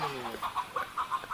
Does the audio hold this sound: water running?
no